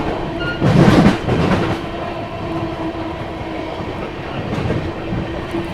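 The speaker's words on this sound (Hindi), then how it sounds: "यहाँ पर अपनी तेलंगाना एक्सप्रेस जो है स्किप करने जा रही है बीना जंक्शन को" Telangana Express passing through Bina Junction, a loud rumbling surge of train noise at the start that eases into a steady, continuous rolling hum with a faint tonal whine, no voices.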